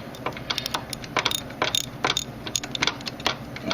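A ratchet wrench turns a bolt into a Mazda 626 I4 engine in a tight space, giving rapid, close metallic clicks in irregular bursts.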